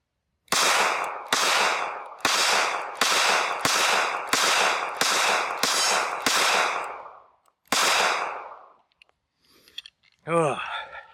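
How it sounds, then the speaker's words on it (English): A SCCY CPX-2 9mm pistol firing its last magazine: nine sharp shots in a quick, even string, then a pause and one more shot, loud and close. A short voice follows at the end. "All right, last mag we're gonna shoot here."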